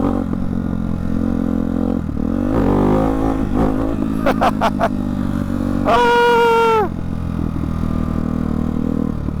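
A motorcycle fitted with a Hyper 698 S1 exhaust idles and revs close by, with a few sharp blips and one long rising rev that falls back to a rumbling idle.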